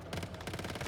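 Rapid gunfire blasting at a boss enemy with a big sack weak spot in the Once Human video game, a dense burst of repeated shots filling the short moment.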